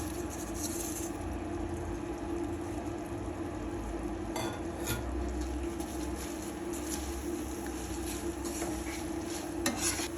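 Crushed fried onion being stirred into a curry frying on the stove, a constant mid-level sizzle with occasional spoon scrapes and light clinks against the pot.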